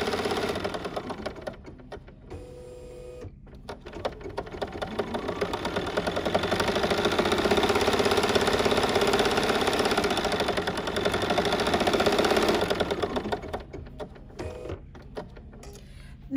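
A Bernina embroidery machine with a CutWork tool cuts through layered fabric, a rapid rhythmic mechanical whirring that stops and starts briefly, then swells and holds loud before tapering off.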